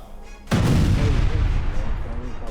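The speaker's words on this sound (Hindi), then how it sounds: "काबुल में बड़ा धमाका" A loud, sudden explosion in Kabul, caught on news footage, strikes after a brief quiet moment, then rolls into a long booming rumble and crackling debris that stays heavy to the end.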